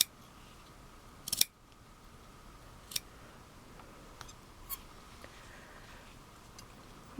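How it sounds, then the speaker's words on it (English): Scissors trimming excess fabric between the fingers of a sewn cloth doll: a few sharp, isolated snips spaced seconds apart over a quiet room background. "Trimming away that excess fabric."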